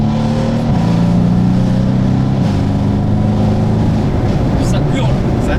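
A Mercedes C63s AMG V8 engine roars loudly from close by, holding a deep steady drone that shifts pitch as revs change, with faint voices beneath.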